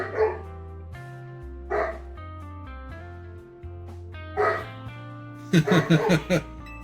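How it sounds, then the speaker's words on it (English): Dogs bark repeatedly in short bursts over a steady synthetic music bed, ending in a rapid cluster of yappy barks, in the video game Pokémon Legends Z-A. "the dogs are barking"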